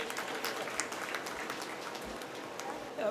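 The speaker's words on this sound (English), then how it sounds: "Big round of applause, please." An audience at a polytechnic college event applauds in a hall, a moderate, steady patter of clapping with scattered louder claps, with no voices over it.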